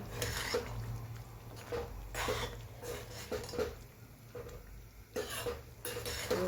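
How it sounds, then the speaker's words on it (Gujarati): Dal with spinach is stirred in a pressure cooker pot, producing soft, repeated scrapes and taps of a spoon against metal, fairly quiet, at an uneven rhythm over a low background hum. "સરસ મિક્સ કરી લઈએ."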